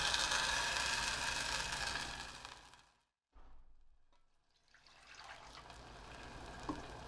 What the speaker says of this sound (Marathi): थोडंसं पाणी घालते